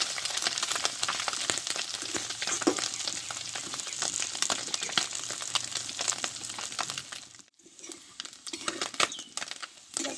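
Small fish pieces frying in oil, a crackling, spattering sizzle close up that briefly drops away before resuming.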